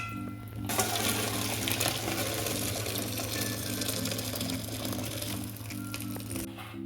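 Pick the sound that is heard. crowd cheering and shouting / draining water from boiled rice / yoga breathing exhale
draining water from boiled rice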